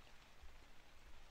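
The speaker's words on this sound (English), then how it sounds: "Yo, I think it's raining outside." Steady soft patter of rain falling outside a building at night in the video game The Convenience Store, a faint, even hiss with a few low thumps, no talking.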